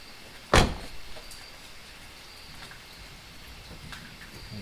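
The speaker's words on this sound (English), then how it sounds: "make sure the door opens good." A Jeep XJ door opens with a single sharp latch clunk near the start, followed by quiet background with faint small rattles.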